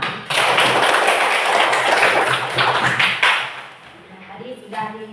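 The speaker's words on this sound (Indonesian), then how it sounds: "sekarang kita tepuk tangan untuk kita semua" A school class applauds together: dense, loud, close clapping that swells and holds for about three seconds, then fades into voices chattering in the room.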